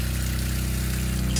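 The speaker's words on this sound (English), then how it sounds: "Once this part is down, you can use the sink faucet, the hot and the cold." Water runs steadily from an RV bathroom sink faucet, a constant close hiss with a low pump-like hum underneath, unbroken and alone for just over a second.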